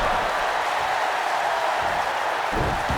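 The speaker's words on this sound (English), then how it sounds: "And the crowd is loving it." Crowd noise at a live wrestling show, a steady broad roar of cheering that holds loudly throughout with no clear breaks.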